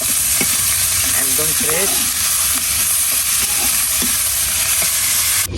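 Spinach and bottle gourd greens hit hot oil with chili and garlic and are stirred, giving a loud, steady, close sizzle with occasional scraping while someone talks over it.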